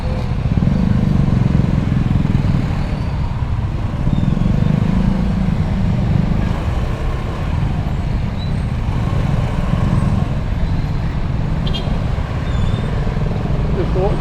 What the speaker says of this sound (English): Dozens of bikes just going around on the sidewalk here.